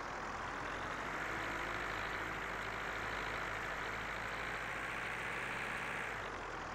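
A tractor engine idles steadily in Farming Simulator 19, a constant low, even rumble running alone at a close, loud level throughout.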